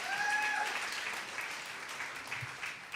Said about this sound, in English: A huge round of applause for the fellowship team.